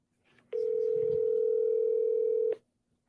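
An outgoing phone call to a Utah number rings with a single steady electronic ringback tone lasting about two seconds, clear and close, with faint background noise before and after.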